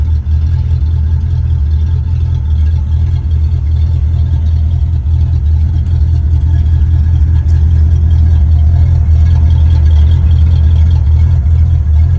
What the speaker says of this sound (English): Listen to that nice throaty Mustang